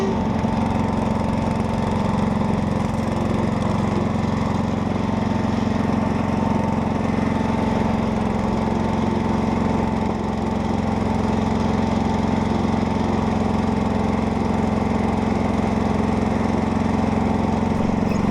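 Roper RT/16 garden tractor engine runs steadily while pushing snow with a front plow, a loud, continuous mid-throttle drone with no breaks and no talk.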